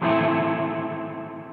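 Reverb and delay pedal tone with pre-delay and resonance in a virtual reverb chamber: a sustained, shimmering effected note with layered echoes that slowly decays over about a second and a half, heard alone.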